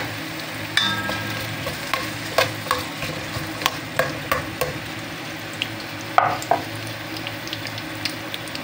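Onion fries in a pan for tinola with fried fish, a steady sizzle under a series of sharp spatula scrapes and taps against the pan at a loose, regular rhythm, close by.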